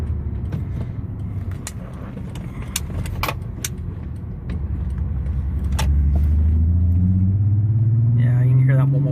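Low engine rumble inside a misfiring car with uneven booming pulses as it accelerates, a few light rattles and clicks in the cabin, and the pitch climbing toward the end.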